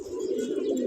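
Pigeons coo in a loft, a close, steady, throaty murmur that holds unbroken for under a second.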